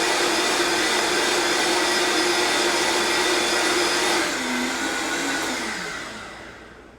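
A kitchen blender motor whirs at a loud, steady pitch while pureeing carrot soup, then winds down and fades as it is switched off.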